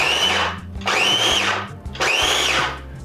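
A Ninja electric food chopper dices onion in a home kitchen: three loud, even motor whirs of about a second each with short pauses between them, close and alone.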